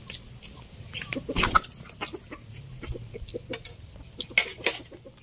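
Native chickens cluck and chatter in a farmyard, with several short close clucks, one louder squawk burst and scattered rustling against a low background hum.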